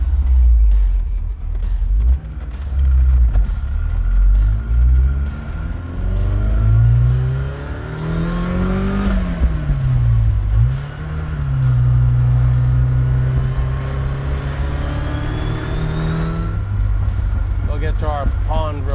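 A 1986 Ford RS200 rally car engine rumbles at low speed, rising and falling through gentle throttle changes with a clear pitch sweep, loud and close, with people talking over it.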